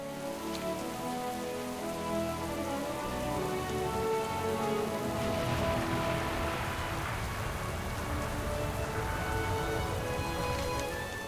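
Steady rain falls in a World of Warcraft outdoor zone, a dense, even hiss of drops on surfaces that runs unbroken throughout, with no voices.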